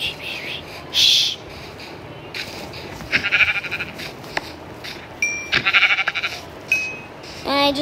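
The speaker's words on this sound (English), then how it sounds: "sheep, sheep" Sheep in a samurai-themed video game bleat in several short, clear calls, with a first loud bleat and a later cluster of repeated bleats, mixed with brief game effects and faint background.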